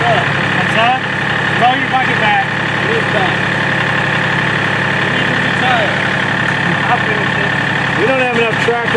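A tractor engine idles with a steady rumbling drone, holding constant throughout while people talk over it outdoors.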